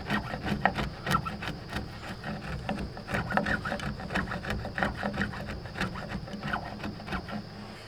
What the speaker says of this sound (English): this is where you're really going to want to chisel. And you're just going to want to clean this up.